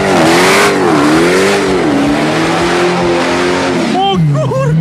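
A 1971 Dodge Challenger fitted with a Hellcat V8 engine pulls up close and revs loudly, its deep engine note rising and falling over several seconds, with excited talk over it and a voice near the end.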